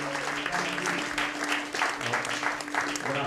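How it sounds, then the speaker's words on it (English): Applause from a music festival audience, a busy wash of clapping with crowd murmur and some faint tonal hum beneath, fairly loud and sustained throughout. "would y'all give a round of applause for the sound folks back there?"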